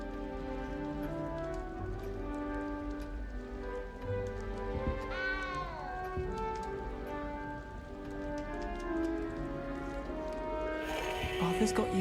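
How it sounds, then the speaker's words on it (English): A frightened cat gives a drawn-out, falling meow midway and more cries near the end, fairly close, over a busy backdrop of music and a steady patter like rain. "You don't need to be frightened, little cat."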